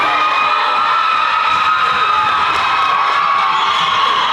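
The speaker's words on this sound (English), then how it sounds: "Listen to this crowd." A packed crowd at a high school basketball game cheers and shouts loudly and continuously, a dense roar of voices with whoops and high-pitched yells from young fans, heard up close.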